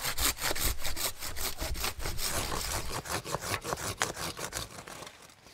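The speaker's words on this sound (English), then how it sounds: "We'll come around and we'll cut all the way through the branch." A hand saw cuts all the way through a tree branch during pruning, giving a steady series of rapid, raspy back-and-forth strokes, close and loud, with no talk.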